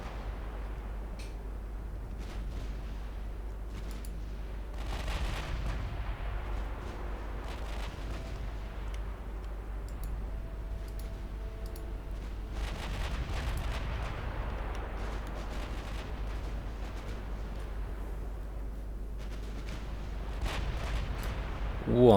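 Naval guns fire in a battle in Ultimate Admiral Dreadnoughts, with distant booms in scattered bursts over a constant low rumble, and faint talk now and then.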